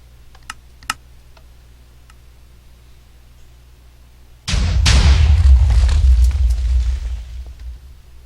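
TNT cannon fired in Minecraft: a few faint clicks, then a sudden loud deep boom that rolls and rumbles for several seconds before slowly fading.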